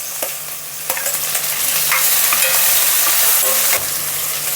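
Curry leaves, tomato, onion and vermicelli fry in a pan for semiya upma, giving a steady, close sizzle with occasional stirring scrapes and clicks and no talk.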